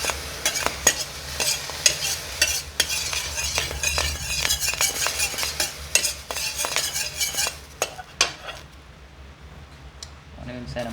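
Eggs fry in oil in a pan, crackling and sizzling close up, with metal utensil clinks and scraping throughout before the sizzle thins near the end; a voice speaks over it.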